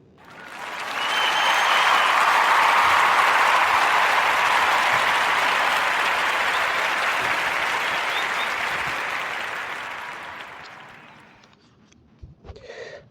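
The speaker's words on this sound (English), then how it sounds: "give a warm round of applause for Sister Cheryl Lee Ralph getting nominated for a Grammy" Warm, steady audience applause celebrating a Grammy nomination, a full, sustained wash of clapping that swells in, holds for several seconds, then tapers off near the end.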